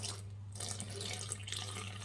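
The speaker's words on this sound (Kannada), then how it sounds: "ಸ್ವಲ್ಪ ನೀರು ಹಾಕ್ಕೊಂಡು ಕಲಿಸ್ಕೊಳ್ಳಿ" Water pours steadily as it is added to a dry mix of flour and turmeric for dough, with a soft splashing rush over a low background hum.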